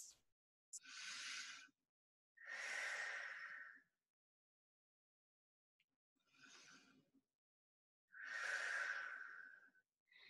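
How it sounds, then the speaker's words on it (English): During a yoga class, a person takes slow, deep breaths up close, four long airy inhales and exhales separated by silent pauses, with no speech. "Take two deep breaths."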